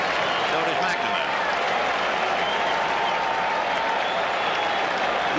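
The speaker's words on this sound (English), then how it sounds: "Crowd really alive now, trying to root the Oil Can out of it" A large crowd of about 33,000 at Fenway Park during the 1986 World Series Game 3 roars and claps steadily, a dense continuous wash of cheering and applause from a distance.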